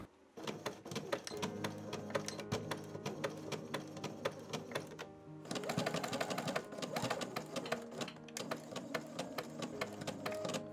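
A sewing machine stitches a label onto the sleeve opening of a blouson in two long runs, with a brief pause between them. The stitching has a fast, even mechanical chatter and sounds close.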